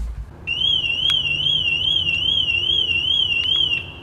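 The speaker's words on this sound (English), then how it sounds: "So in comparison, let's try my car alarm" A BMW car alarm sounds steadily for several seconds, a loud, piercing warbling siren tone that rises and falls in a regular cycle, with a few faint clicks under it and no one talking.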